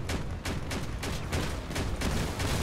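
Rapid volleys of rocket launches and blasts in the vehicle combat game Crossout, a dense string of sharp bursts repeating about every half second, loud and close.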